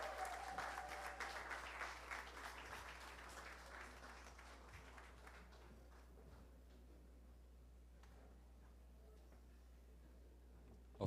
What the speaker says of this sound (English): please give Dee's Dance Studio a big round of applause